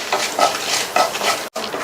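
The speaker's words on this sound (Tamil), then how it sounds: "மிதமான தீயில வச்சு இது எல்லாத்தையும் வறுத்துக்கலாம்." Mustard seeds, coriander seeds and dried red chillies dry-roast in a pan over medium heat, a dry rustling sizzle with scraping stir strokes in quick pulses and one brief break near the end, close and without talk.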